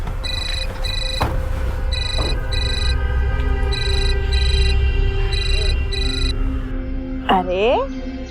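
A telephone ringtone chirps in regular repeated bursts inside a home in a Hindi crime drama, steady and clear over a low hum, with a voice briefly rising near the end.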